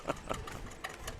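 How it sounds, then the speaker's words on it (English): An old John Deere tractor engine idles at a parade with a steady, rhythmic chugging knock, fairly close and continuous for a brief moment. "Got a green John Deere coming around the corner."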